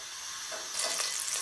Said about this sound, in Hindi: ऑयल को गर्म होने देंगे।